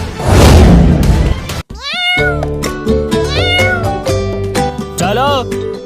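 A cartoon kitten meows several times in a row, loud and close, with rising, whiny cries after a noisy burst at the start.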